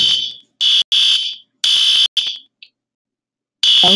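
Harsh buzzing bursts from a cartoon school fire alarm repeat in an uneven on-off pattern, loud and close, with one long silent gap before the alarm sounds again.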